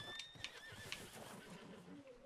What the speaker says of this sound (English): Ah, my horse.